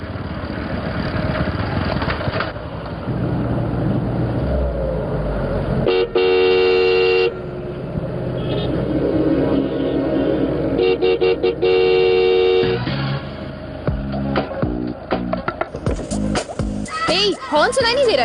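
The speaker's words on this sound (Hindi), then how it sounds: "हॉर्न सुनाई नहीं दे रहा है क्या?" Car horns blare repeatedly in busy traffic, long insistent honks over idling engines, with people talking nearby.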